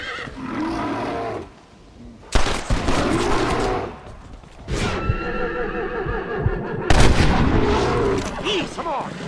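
Loud bursts of gunfire aimed at a bear in Red Dead Redemption, mixed with panicked horse whinnies and hoofbeats, the shots coming in several close clusters.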